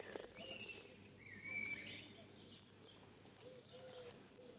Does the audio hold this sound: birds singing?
yes